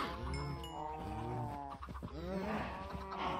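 Cows mooing in the Minecraft video game, several long drawn-out lowing calls that overlap one another, loud and close, with no talk over them.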